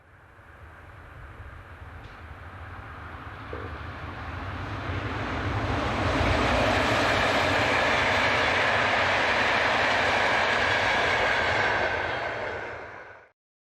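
Austrian locomotive 1042-039 hauls a train westward toward Feldkirch near the Arlberg Mountains, its rumble swelling from a distance into a loud, sustained close pass before cutting off abruptly.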